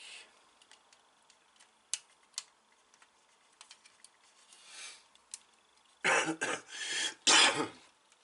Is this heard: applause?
no